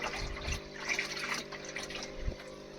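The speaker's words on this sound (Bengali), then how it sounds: "জল এখনও ভর্তি হচ্ছে" Water filling an aquarium makes a steady, close rushing and gurgling, with a couple of low thumps, and no voices.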